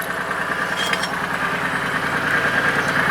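A tractor engine idles nearby in a loud, steady rumble with an even low knock throughout.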